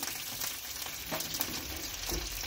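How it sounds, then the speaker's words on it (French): Onions fry in oil in a pan, making a dense, close sizzle with light crackles and soft stirring scrapes throughout, without any voices. "Et vous mettez les oignons dans la poêle."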